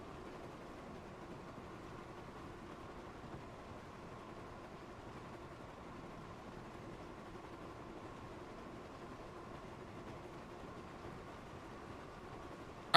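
Steady low rumble of a train rolling along rails in a train-driving game, faint and continuous with a soft mechanical drone and no talking.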